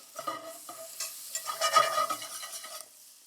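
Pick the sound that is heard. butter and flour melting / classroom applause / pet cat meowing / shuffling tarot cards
butter and flour melting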